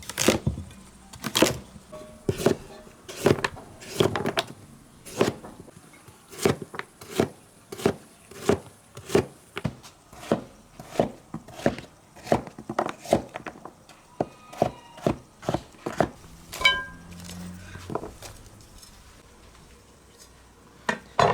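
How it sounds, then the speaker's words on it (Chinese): A kitchen knife cuts washed radish into long strips on a board, each chop a crisp, close knock in a steady, quick rhythm that continues throughout with no voices. "把洗干净的萝卜切成条儿，条儿切长一点。"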